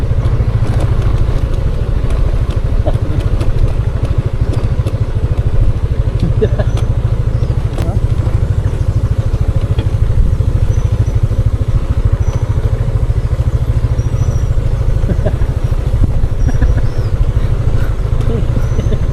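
A motorcycle rides along a road toward Mayton River, its engine and wind rumbling loudly and steadily throughout, with occasional rattles and faint voices underneath.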